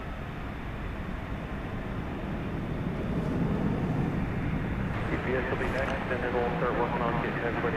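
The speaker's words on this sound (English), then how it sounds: "There is Flight 2071 to Querétaro, Mexico, American Airlines Flight 737-800." An American Airlines Boeing 737-800 taking off from runway 18 left at DFW airport at night, a steady broadband jet roar that swells louder partway through, heard from a distance.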